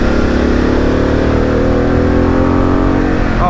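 Harley-Davidson Pan America 1250 motorcycle, around 150 horsepower, pulling hard under a twisted throttle, a loud close engine roar climbing steadily in pitch with no talking.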